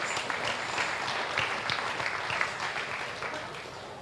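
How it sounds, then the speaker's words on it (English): Crowd at a junior beef cattle show clapping, a sustained wash of applause from many hands that holds steady throughout, with faint voices mixed in. "Let's give them a round of applause."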